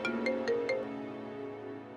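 An incoming-call ringtone on a mobile phone plays a short melodic run of electronic tones, a few quick notes that then fade, indoors and moderately quiet with no talk.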